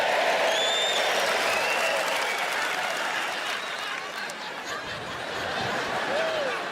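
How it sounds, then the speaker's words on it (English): Audience at a stand-up comedy show bursts into sustained applause and cheering, loud and continuous throughout, with some laughter and a few whoops mixed into the crowd noise. "They just cheering the fact that there's stones in the olives"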